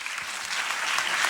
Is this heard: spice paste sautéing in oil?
no